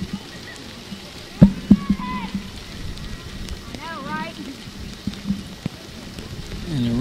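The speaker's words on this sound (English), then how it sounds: "Rain is continuing to fall here at Millerfield." Rain falling on a baseball field during a game, a steady broadband hiss throughout with a few sharp taps and distant crowd and bird-like sounds; a voice is briefly present in the background.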